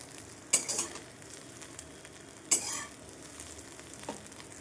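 Egg frying in a pan of oil in a home kitchen, giving a steady soft sizzle with two sharp bursts of crackle and clatter, close and moderately loud, no voices.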